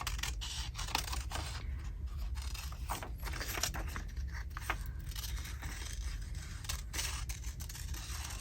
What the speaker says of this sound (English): I think I can cut this one out with the big scissors